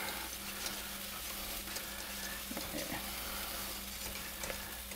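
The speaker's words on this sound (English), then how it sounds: "We'll turn this other burner off, and again we'll stir those grits" Grits bubble and hiss in a pot on the stove under a steady, low background sizzle with a faint hum, with a few soft stirring scrapes in the middle.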